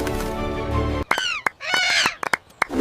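A cartoon crow gives a series of harsh, loud caws that follow a brief, dense musical or tonal sound, with sharp clicks between the calls.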